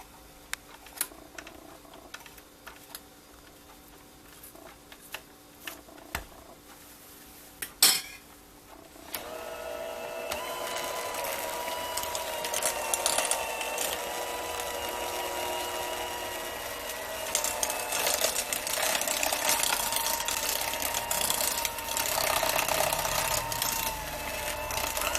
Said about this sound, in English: take my mixer and mix it.